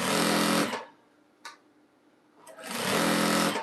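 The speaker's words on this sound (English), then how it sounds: "So you're gonna start sewing it together now?" A sewing machine stitching rug strips together runs in two loud, close bursts of rapid whirring, split by a quiet pause with a couple of small clicks.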